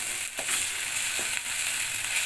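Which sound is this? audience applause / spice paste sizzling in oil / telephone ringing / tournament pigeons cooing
spice paste sizzling in oil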